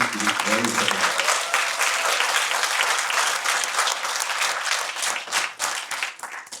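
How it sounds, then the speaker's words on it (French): An audience applauds a design agency, Atelier 15 of rue de l'Évêché in Vence, with steady, dense clapping throughout and a brief voice near the start. "Je crois qu'on peut les applaudir aussi."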